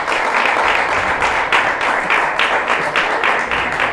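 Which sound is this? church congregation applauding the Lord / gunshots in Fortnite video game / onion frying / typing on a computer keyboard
church congregation applauding the Lord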